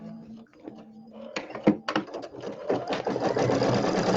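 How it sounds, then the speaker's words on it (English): A sewing machine stitches a quilt block in short bursts, starting and stopping before running into a steady, close mechanical whir toward the end. "Then we got to back up so we can sew this one again."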